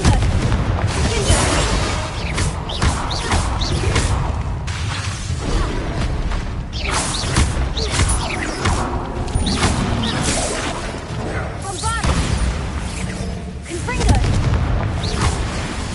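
Repeated fire-spell explosions in the Hogwarts Legacy video game, a dense, continuous run of booms and bursts through a chaotic battle, with a voice shouting over the blasts.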